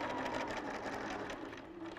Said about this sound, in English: Keep it in needle down and just sew